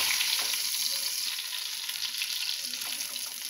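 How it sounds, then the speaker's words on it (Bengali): Bata fish pieces sizzle steadily in hot oil in a kadai, a dense, even frying hiss that stays close and continuous throughout with no talking. "মাছগুলোকে এপিট ওপিট করে আগে ভেজে নেব"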